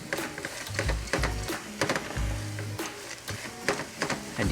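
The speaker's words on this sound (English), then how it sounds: "you want to saute it in the oil together with the aromatics to get the nuttiness of the barley out of it" Pearl barley sautéing in hot oil with aromatics for a mushroom risotto, soft sizzling interrupted by repeated low scraping and stirring thumps in an uneven rhythm, close by.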